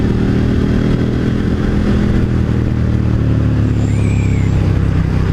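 A 2018 KTM 1290 Super Duke motorcycle is ridden in third gear, its engine a loud, steady close drone mixed with wind rush. No one speaks.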